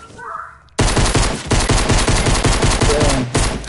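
Rapid gunfire in the video game Fortnite, a dense loud burst of repeated shots that starts abruptly after a quiet moment and keeps going in quick rhythmic volleys, with brief gaps between strings of shots.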